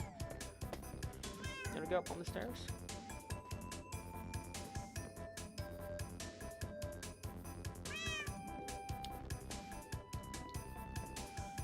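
A Minecraft cat meows repeatedly, several clear rising mews spread across a busy in-game backdrop, while a person talks over it.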